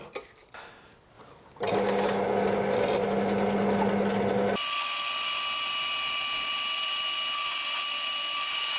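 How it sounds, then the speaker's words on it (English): Pillar drill bores out the pin of a Shimano bicycle brake caliper, a loud, steady high-pitched whine with a rough grinding band that shifts to a smoother tonal drone partway through. "It's literally the only reason I bought this pillar drill, is to drill Shimano calipers out."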